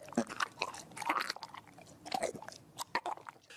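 Wet, squelching chewing and chomping from a film scene of a man biting into and eating a woman, with close, irregular bursts of smacking and crunching mastication and no talk.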